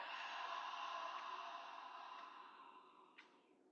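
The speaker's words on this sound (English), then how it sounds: "Inhale up, and exhale back" A long, steady breath exhaled during a slow chakra movement exercise, soft and close, fading gradually over several seconds and ending with a brief faint catch.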